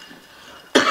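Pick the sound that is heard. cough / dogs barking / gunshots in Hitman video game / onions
cough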